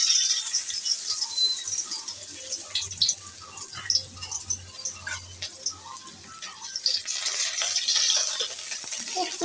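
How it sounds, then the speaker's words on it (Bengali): Chopped onions dropped into hot oil in a kadai sizzle and crackle steadily at close range, with scattered bright pops and faint utensil stirring throughout. "কড়াইতে তেল অলরেডি বসিয়ে দিয়েছি, পেঁয়াজ কুচি দিয়ে দিচ্ছি"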